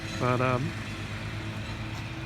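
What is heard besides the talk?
lawnmower running in background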